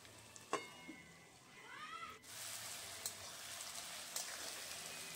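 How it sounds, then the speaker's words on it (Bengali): Onion fries with a little salt in a covered pan over medium heat, a faint hiss that grows to a steady, louder sizzle partway through, with a few soft clicks. "আমি একটু নুন দিয়ে ঢাকা দিয়ে দিয়ে ভাজছিলাম পেঁয়াজটাকে।"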